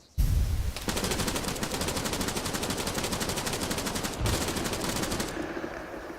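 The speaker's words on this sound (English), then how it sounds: "Enemy fire!" Sustained automatic gunfire in Arma 3: loud, rapid machine-gun bursts rattling in a fast regular rhythm for several seconds, briefly pausing before a second long burst, with a heavier thump at the start.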